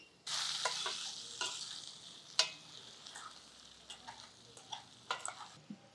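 Aloo masala fries gently over a low flame, a soft hiss punctuated by a series of light spoon taps and scraping stirs against the pan at uneven intervals. Quiet, with no speech.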